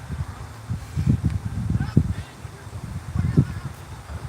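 A flock of chickens makes repeated clucking and squawking calls in short bursts, moderately close, in a backyard garden setting.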